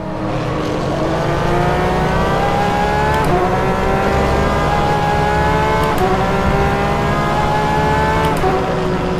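Porsche 911 RSR GTE racing around Portimao in rFactor 2, its engine droning loudly and steadily at high revs, the pitch climbing through each gear before briefly dipping on shifts, close and continuous with no talk.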